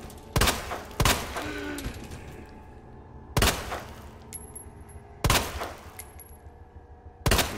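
Gunfire in the Resident Evil 2 Remake video game: five loud, sharp shots spaced irregularly, each a sudden blast with a short decaying tail, separated by quieter game ambience.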